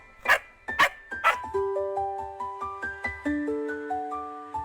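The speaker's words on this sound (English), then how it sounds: "another cute little puppy. A little baby dog." A puppy gives three quick, high-pitched barks, then a string of steady electronic melodic tones follows.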